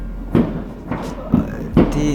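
Fireworks bursting outside on New Year's Eve, three or four separate muffled booms spaced about half a second apart over a low steady rumble, with a voice speaking in the background.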